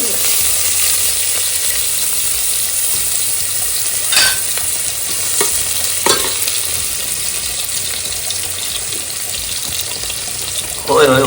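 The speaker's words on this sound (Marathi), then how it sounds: "सगळ्यात आधी आपण कांदा कढीपत्त्याची फोडणी मगाचसारखं सेम पॅटर्न" Onion and curry leaves fry in hot oil for a tempering, a loud, dense sizzle lasting the whole time, broken by a few sharp clinks of a stirring spoon against the pan.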